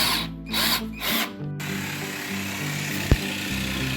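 A power drill drives a screw into wood in three quick bursts, then a softer, steady drilling run continues close by with a brief knock partway through.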